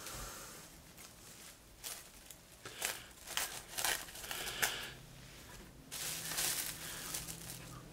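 Saran plastic wrap being cut and handled for a keyboard cover, a series of close, quiet crinkling and snipping bursts in irregular clusters with short pauses between them.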